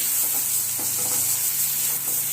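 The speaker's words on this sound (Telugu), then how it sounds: "ఫ్రై అయిన తర్వాత తీసిన ఆనియన్ పేస్ట్, టమాటో పేస్ట్ను ఇందులో వేసి ఆయిల్లో ఫ్రై చేయాలి." Onion and tomato paste fries in oil for a paneer curry, a soft continuous sizzle with faint scraping of stirring, close and steady.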